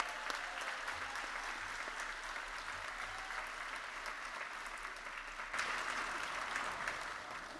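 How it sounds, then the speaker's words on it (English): Sustained applause fills the hall at a nursing white coat ceremony, a dense, even wash of clapping from a large audience that swells slightly near the end. It sounds distant and fairly faint, with no speech over it. "let's give them a warm round of applause"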